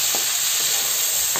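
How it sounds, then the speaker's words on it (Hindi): Potato pieces frying over a medium flame for poppy-seed aloo posto, a steady broadband sizzle with a few soft stirring scrapes spread through the clip, close and fairly loud. "आलू के भूजि लेबै"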